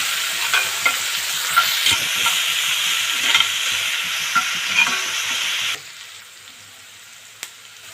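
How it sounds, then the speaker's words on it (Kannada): Onions, green chillies and garlic paste fry in a pan for chicken fry, a close, steady sizzle broken by repeated scraping stirs that stops abruptly near the end, leaving near-silence and one faint knock. "ಹಾಕ್ಕೊಂಡು ಈರುಳ್ಳಿ ಬ್ರೌನ್ ಆಗೋವರೆಗೂ ಇದನ್ನು ಫ್ರೈ ಮಾಡ್ತೀನಿ"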